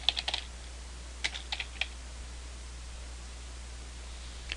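Short bursts of typing on a computer keyboard, a quick cluster of clicks, another cluster after a pause, then one last tap, over a quiet hiss.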